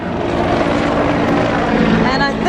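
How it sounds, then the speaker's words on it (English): Helicopter coming in to land near Hook Passage in the Whitsunday Islands, a steady loud rotor and engine drone that fills the whole clip without pause. "we got told a helicopter was coming in shortly"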